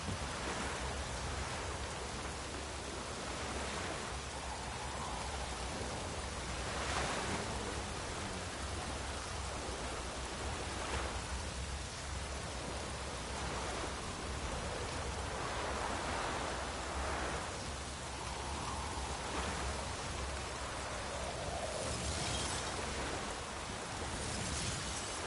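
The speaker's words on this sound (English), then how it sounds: "Hope it rains like this come sowing time." Heavy rain falls steadily, a dense unbroken hiss that stays loud and constant throughout with no voices.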